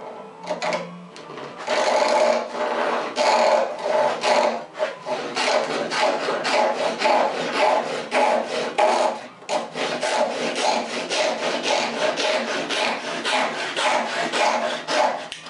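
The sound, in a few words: hand sawing a piece of wooden square stock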